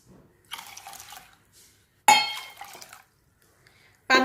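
Water poured from a cup into a bowl of soaked chowari (sago) for a dessert: two short splashing pours about a second each, separated by a pause, with a brief third splash starting at the end, close and fairly clear.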